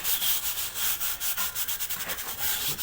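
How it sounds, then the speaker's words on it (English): A brush works a flush lime mortar joint to expose the aggregate, with rapid, rhythmic, abrasive scrubbing strokes that sound loud and close, continuous throughout with no talking. "work it with the brush"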